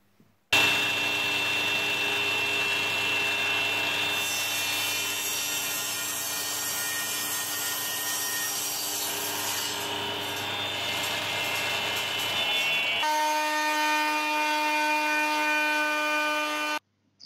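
A power saw cuts wood at an angle, running steadily and loudly for about sixteen seconds, its whine shifting pitch near the end of the cut.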